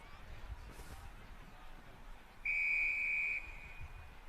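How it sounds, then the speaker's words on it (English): Referee's whistle at an amateur rugby match, Canterbury versus Rochford Hundred: one sharp, loud, sustained shrill blast of about a second over faint crowd and field ambience. "Referee with a nice strong whistle."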